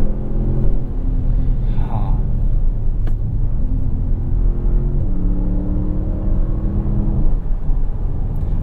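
A 2024 Audi S8 accelerates hard, its engine rumbling steadily from inside the cabin with rising tones and a gear change partway through, loud and continuous.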